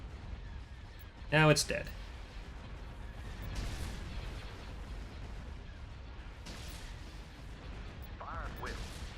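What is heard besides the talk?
missiles firing in Thrawn's Revenge space battle video game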